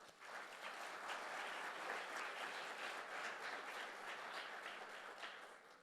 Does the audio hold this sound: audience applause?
yes